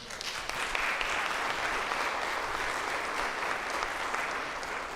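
A community meeting audience on local water issues gives a full round of applause, a dense, even wash of many hands clapping steadily for about five seconds with no talking over it.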